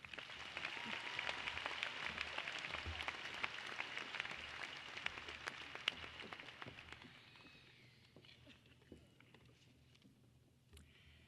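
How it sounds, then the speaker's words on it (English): A large crowd applauds at the Mandarin High School 2018 graduation ceremony, dense clapping that carries on for several seconds before thinning and fading. "Please join us in a round of applause for all of these distinguished guests."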